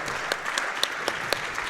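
A small group of people clapping steadily for a donation at a speedrun charity marathon event, no talk over the applause.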